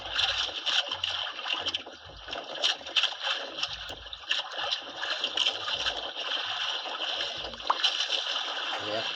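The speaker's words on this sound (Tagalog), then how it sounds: "Maalon, magalaw yung bangka, maingay yung tubig, dagat." Choppy sea water sloshes and splashes steadily against a small rocking fishing boat, close and continuous, with occasional wind buffeting and people talking intermittently over it.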